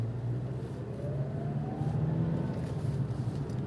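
A car pulls away on a city street, its mid-pitched engine rising steadily as it accelerates, close and moderately loud, with no talk over it.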